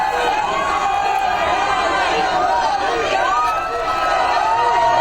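A noisy crowd packs the Ranip polling booth in Ahmedabad on Lok Sabha election day, a dense wash of chatter and shouting, close and constant, with individual voices rising over the din.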